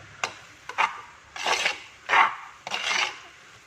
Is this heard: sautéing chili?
yes